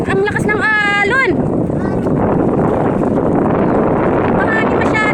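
Strong sea wind buffets the microphone in a steady, heavy roar with churning waves underneath, while a voice talks briefly at the start.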